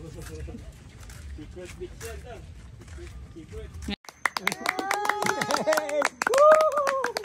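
Clapping during a trip in Siargao: sharp, rapid hand claps that start abruptly partway through, loud and close, overlapping with voices talking and calling.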